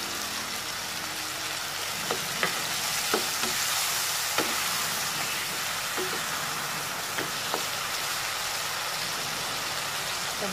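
Lotus stems and shrimp stir-fried in a hot pan, a constant loud sizzle with scattered sharp clicks and scrapes of a utensil stirring throughout, no voices.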